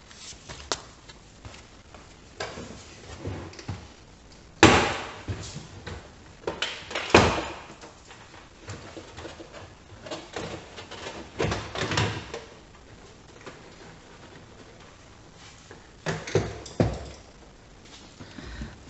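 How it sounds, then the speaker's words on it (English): A Volkswagen Golf Mk4 driver's side door panel is pried off its clips up close, giving a series of sharp pops and plastic clunks spread over the time, with quieter handling rustles between them. "now we can pop this panel off of the door itself"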